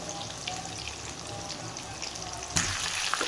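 Chicken pieces frying in hot oil for steam broast, a steady close sizzle and crackle throughout that jumps louder near the end as more pieces hit the oil.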